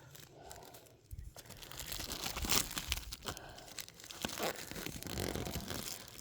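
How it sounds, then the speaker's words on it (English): A recycled cardboard package being torn open by hand, close crinkling, ripping and crunching in bursts across several seconds, no talking. "So I cut the corner so I could tear it open."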